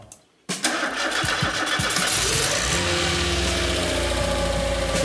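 A Peugeot 106 Rallye's engine, fitted with a new starter motor and battery, catches after a brief crank and settles into a steady, loud idle close by.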